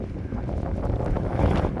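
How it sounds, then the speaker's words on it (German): Strong wind gusting on a small hill on Norway's wild coast, a steady loud low roar buffeting the microphone throughout with no voices. "Wahrscheinlich muss ich lauter reden wegen dem Wind."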